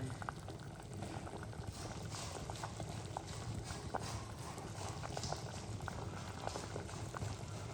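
Mushrooms cook in a hot pan as liquid boils and evaporates, producing a steady, even sizzling and bubbling hiss with faint scattered crackles, close but quiet throughout.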